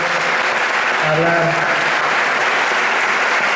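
An audience applauds loudly and continuously at a medical symposium for a speaker, a dense wash of clapping with a brief voice speaking over it near the start.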